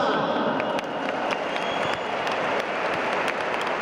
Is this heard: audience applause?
yes